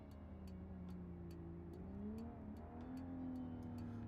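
An old car's engine in a racing video game drones steadily and rises slightly in pitch, with faint regular ticking clicks running above it, quiet and fairly distant.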